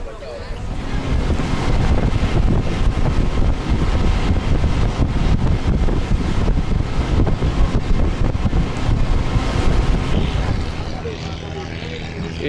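A boat runs at sea off tropical islands in Thailand, with strong wind roar buffeting the microphone and steady wash of waves and engine noise throughout, loud and continuous.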